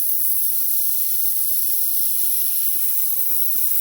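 A spray gun lays down candy paint, producing a continuous, close, steady hiss of atomized spray without pause for the whole stretch.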